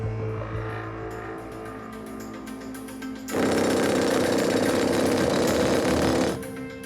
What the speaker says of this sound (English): You're going to drill an hole and then you put your charge in.